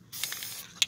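Flex Seal hisses from an aerosol spray can onto a camper's metal roof in short bursts, one sustained spray followed by a sharp final puff, close and fairly quiet.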